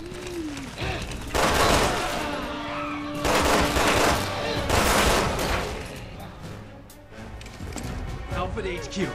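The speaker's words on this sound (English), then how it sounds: "he's still shooting at me!" Enemy gunfire in Resident Evil 6 comes in several loud bursts and crashes, mixed with impacts and game noise, while a person talks excitedly over the action.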